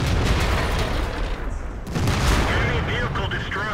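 A deep rumbling explosion as an enemy tank is destroyed in a tank battle game, loud and boomy with a sustained roar and scattered crackling, overlapping with a player's voice.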